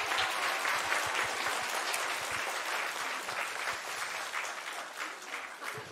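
A congregation at an Easter Sunday church service breaks into warm applause, a continuous patter of many hands heard at a moderate distance, steady throughout with no voices on top.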